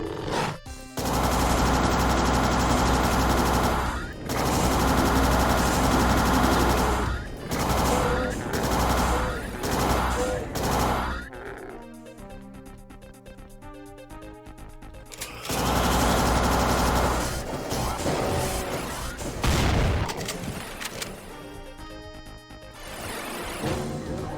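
A plasma gun in the video game Doom, firing in rapid sustained bursts with short pauses between volleys, loud and close, broken by quieter stretches of other game noise.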